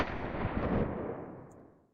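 Walther MPL gas blowback airsoft submachine gun discharging a single sharp, close, loud shot that decays over about a second, with no talk over it.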